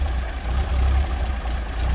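A 1930 Chevrolet Model AD Universal's 3.2-liter, 194-cubic-inch inline six-cylinder engine idles with a low, steady rumble heard up close, without talk.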